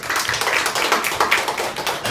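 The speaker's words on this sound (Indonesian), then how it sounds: "Tepuk tangan untuk kelompok gajah." Schoolchildren in a Qur'an and Hadith classroom clap for a classmates' group, a dense, steady patter of many hands applauding together, moderately loud and continuous throughout.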